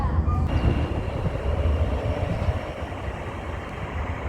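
A Sheffield Supertram tram-train runs along the line, giving a steady low rumble and rolling rail noise throughout, with a brief higher squeal near the start.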